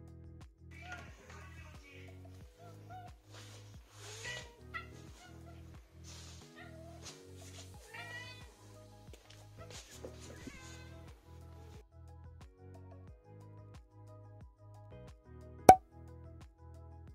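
Cats meow softly and intermittently indoors, with scattered short calls over a low steady hum and a sharp click near the end.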